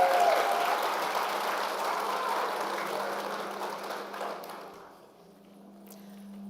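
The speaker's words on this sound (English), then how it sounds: "Let's give her a big round of applause." Applause from an audience at the Miss Indigenous Canada 2024 pageant fills the room, a dense steady clatter of many hands that gradually thins out and fades near the end.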